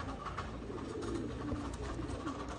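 Pigeons of a slender Saharanpuri flying breed cooing softly and continuously at a moderate distance, with a steady low murmur of several birds and no voices.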